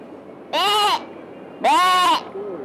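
Two loud, quavering goat bleats imitated by a human voice, separated by a short pause, with a faint tail at the end.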